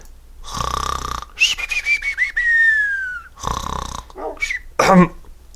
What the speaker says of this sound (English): I just choked on my snore.